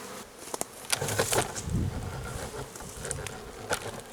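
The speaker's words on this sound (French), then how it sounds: "on voit des abeilles qui se baladent sur la planche de vol" Honeybees buzzing steadily at a hive entrance, walking on the landing board, a soft continuous hum with individual bees droning past close by, no voices.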